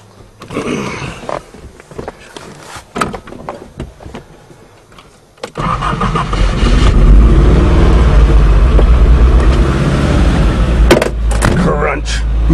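An old Nissan taxi starts up, with clunks and shuffling first, then the engine running loud and rough with a steady low rumble as it begins to drive away. No one speaks.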